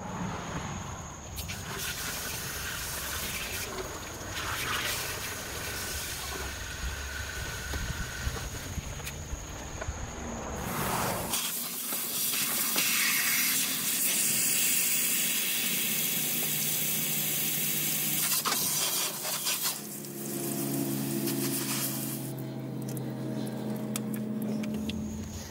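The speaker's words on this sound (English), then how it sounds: "I'm going to go ahead and flush out the radiator. I'm going to give it a nice blast" A garden hose blasts water through the radiator of a 1998 Jeep Grand Cherokee ZJ with the 4.0 engine to flush out coolant debris. A steady, close hiss of spraying water runs throughout, turning harsher and splashier midway, with no talking.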